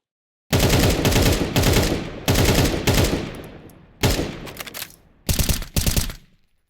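Automatic AK rifle in Counter-Strike 2 firing several sustained bursts of rapid, loud, close shots, each burst trailing off in reverberation, with short gaps between and a final brief burst.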